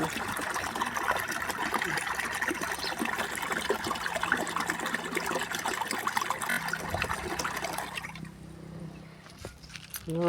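Steady rushing trickle of fresh water flowing into a tank for several seconds, then dropping away near the end, leaving quieter background.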